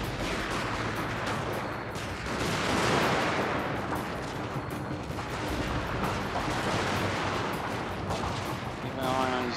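Massed musket volleys from samurai-era troops in a Fall of the Samurai battle, a dense, continuous crackle of gunfire rolling on throughout, with brief voices mixed in.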